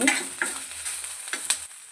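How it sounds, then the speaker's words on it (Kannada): Curry leaves frying in oil in a pan, with a constant close sizzle broken by scraping stir strokes. "ಒಂದು ತರ್ಟಿ ಸೆಕೆಂಡ್ಸ್ ಕರ್ಬೇವು ಫ್ರೈ ಆದರೆ ಸಾಕಾಗುತ್ತೆ"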